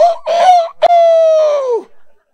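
A man imitates a rooster crowing with his voice, producing a loud, close cock-a-doodle-doo in several drawn-out rising and falling segments, alone without other talk.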